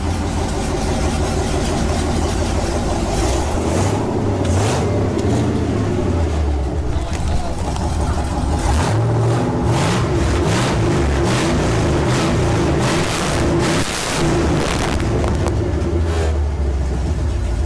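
A swapped 5.3 LS V8 in a Ford Ranger 4x4 race truck, restarted after sitting for three years, runs loud and close, idling roughly with repeated revs that rise and fall throughout.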